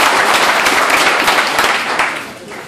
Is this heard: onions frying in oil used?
no